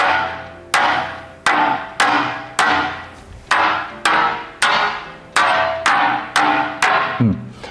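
A bowl knocks repeatedly on a ceramic tabletop bonded to MDF wood, about a dozen sharp evenly spaced strikes, each with a short ringing decay, close and loud.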